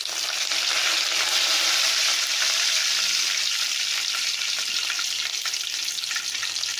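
Curry leaves drop into hot oil for a Sri Lankan onion sugar sambal and crackle with a loud, dense, steady sizzle that holds for several seconds, close up, no talking.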